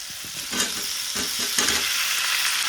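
Boiled potatoes sizzle steadily in a pan while a utensil stirs and scrapes a few times, close and fairly loud.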